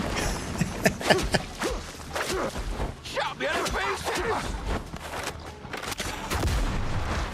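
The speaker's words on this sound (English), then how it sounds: "He didn't even flinch when I hit him in the chest with that shotgun blast." Shotgun blasts and scattered gunfire with explosions in the game Windrose, sharp repeated bangs in an irregular rhythm alongside footsteps, with someone talking over the combat.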